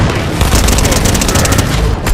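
Rocket launcher explosions in the video game Fortnite keep up a loud, dense barrage of booms that overlap into an unbroken roar for about two seconds.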